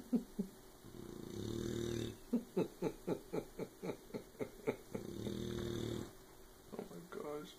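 Puppy snoring close up in a quick run of short, regular rasping snores between longer wheezy breaths, with faint background talk.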